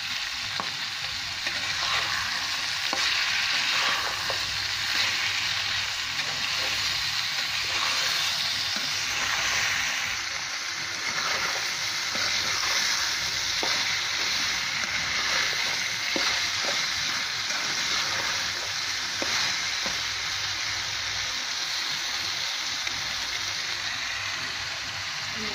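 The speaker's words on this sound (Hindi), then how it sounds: "टमाटर के सॉफ्ट होने तक इसको भूनेंगे इसी तरह से।" Chopped tomato and green chilli fry in a pan with a steady, close sizzle and crackle, joined by occasional stirring scrapes, continuous throughout with no talking.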